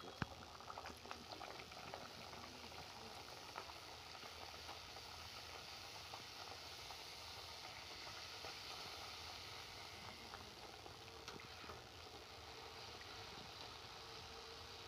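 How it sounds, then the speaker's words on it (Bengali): Luchi fry in hot oil in a kadai with a steady, low bubbling sizzle and occasional faint pops, continuous and quiet with no talk. "আমি এবার গরম তেলের মধ্যে এই লুচিগুলো আমি একটা একটা করে দিয়ে আমি"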